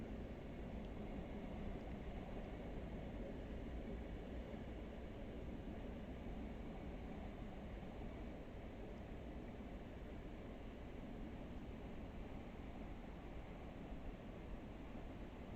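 A Class 166 diesel train running quietly in Train Sim World, giving a steady, soft, low rumbling hum with faint rolling noise and no change across the whole stretch.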